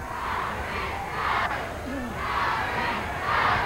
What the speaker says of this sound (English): the crowd picks up a chant to get Chris moving along here in this bout